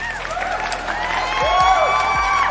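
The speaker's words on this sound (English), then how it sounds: "Round of applause today." A round of applause from a small group, light clapping and cheering that builds slightly, with a few low thumps and voices underneath.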